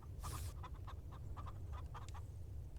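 Chickens in the farming game Farm Together 2 give a quick run of soft repeated clucks at close range, with a brief hissing burst near the start.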